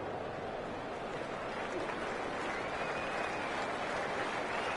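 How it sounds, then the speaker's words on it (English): Crowd applause in a cricket video game, a steady, faint wash of clapping and cheering noise that holds evenly for the whole stretch. "Please give the players and umpires a round of applause as they take to the field"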